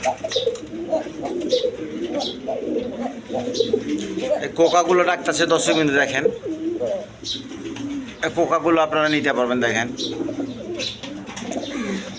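Several pigeons coo and call close by at a seller's stall holding racer pigeons and birds with eggs and chicks, steady throaty cooing running under someone talking.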